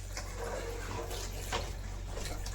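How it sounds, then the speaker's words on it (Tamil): Water being poured into a mushroom pepper thokku dish for a home-cooked lunch, a steady close splashing wash that runs for a couple of seconds with a brief swell midway. "தண்ணி ஊற்றி நல்லா மிக்ஸ் பண்ணிக்குவோம்."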